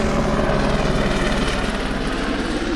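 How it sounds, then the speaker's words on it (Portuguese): A Civil Police helicopter passes overhead with a loud, continuous rotor and engine roar that holds steady throughout, dominating the scene with no voices over it. "Um helicóptero aqui da Polícia Civil."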